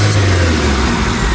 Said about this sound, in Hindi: एक्सीलेटर देने पे इसकी साउंड बहुत अच्छी है